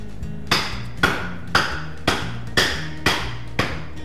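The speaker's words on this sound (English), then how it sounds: "So we'll start by cracking open the coconut." A coconut is struck hard seven times in an even rhythm, each blow a sharp, close knock about half a second after the last, with no talk over them.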